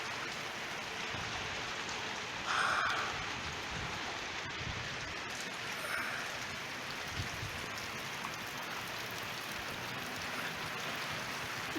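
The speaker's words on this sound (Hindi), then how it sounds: "आप देख सकते हैं कि काफ़ी तेज़ बारिश है।" Heavy rain pours steadily along a hiking trail near the waterfalls of Jahaz Banda, a dense, even hiss that fills the whole stretch without pause.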